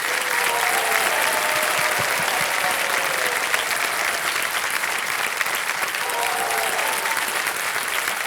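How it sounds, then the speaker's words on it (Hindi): Sustained applause from a studio audience on the Indian TV quiz show Kaun Banega Crorepati, Season 14, with dense, steady clapping that holds for several seconds at a loud, even level. "तालियां बजती रहे"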